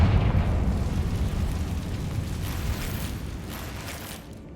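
A Confringo fire spell in a Harry Potter video game detonates as a deep, loud blast whose rumbling roar starts at full strength and slowly fades over several seconds.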